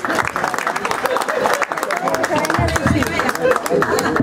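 Applause at a family 85th birthday celebration, a steady wash of clapping mixed with crowd noise and voices talking throughout.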